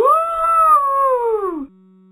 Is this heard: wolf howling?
yes